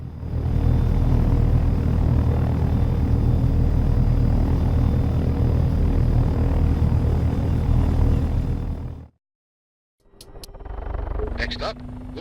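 A helicopter in the flight game Take On Helicopters, during a training flight, gives a steady, loud, broadband rotor and engine roar for about nine seconds. It cuts out abruptly, then returns more quietly with faint clicks.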